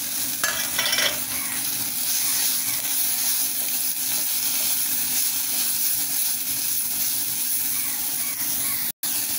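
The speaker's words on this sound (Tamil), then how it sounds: "நறுக்கி வச்ச கோஸை போட்டுக்கலாம்." Chopped cabbage is stir-fried in a masala base, giving a steady, loud sizzle and hiss with scraping stirs in the pan, running continuously and close.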